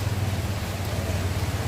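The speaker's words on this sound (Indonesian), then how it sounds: "Hujan" Rain falling during an outdoor funeral ceremony gathering, a steady dense hiss of drops with a low hum underneath, continuous and fairly loud throughout.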